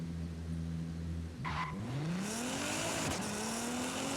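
A car in the Forza Horizon 5 video game launches at full throttle with launch control, the engine idling steadily at high revs before a brief tire chirp and a rising, accelerating engine note.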